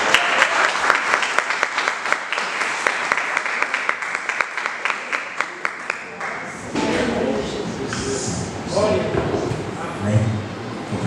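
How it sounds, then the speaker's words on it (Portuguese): A church congregation claps together in praise, the applause starting in a fairly rhythmic beat and then turning into a looser, denser ovation with voices rising underneath. "E as palmas se exaltam a Jesus."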